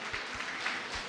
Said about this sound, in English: So a big round of applause for all our chef faculties